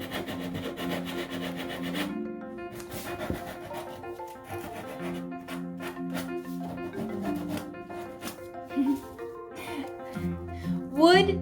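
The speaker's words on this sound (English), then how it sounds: "you can get rid of lines and everything just with some sandpaper" Wood is rubbed down by hand with sandpaper, a close, steady rasping scratch in repeated strokes, with music playing underneath throughout.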